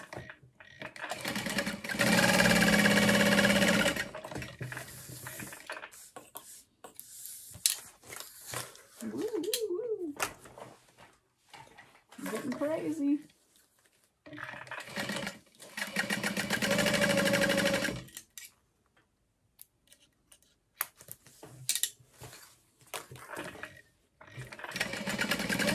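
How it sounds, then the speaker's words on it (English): A sewing machine runs in bursts of a few seconds each as it stitches the top and bottom seams of a backpack's fabric panels at a 3/8-inch allowance, with talking in the pauses between runs. "you're gonna sew along the top and the bottom, but not the sides, at 3/8 of an inch"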